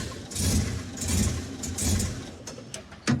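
A Chevrolet Camaro LS crate engine with an exhaust leak, idling unevenly in close range, its loping rumble swelling and fading in rough surges with a hissy, ticking edge.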